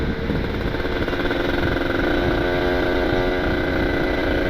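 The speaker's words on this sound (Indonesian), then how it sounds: "Enak banget nih ngegas." Motorcycle engine droning steadily under throttle while riding on a cold road, heard from the rider's position with a constant hum and no talk.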